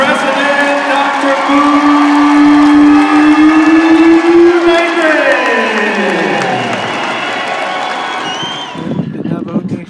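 A loud crowd applauds and cheers at the 2023 Navajo Nation presidential inauguration, with whoops rising over a sustained roar that gradually fades out.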